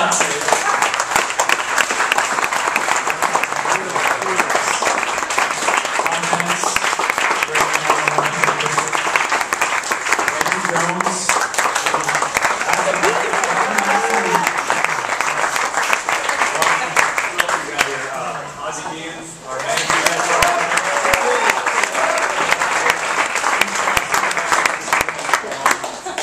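A party crowd at a baseball team's Grand Slam celebration gives steady, dense applause for more than twenty seconds, while a voice speaks over the clapping throughout.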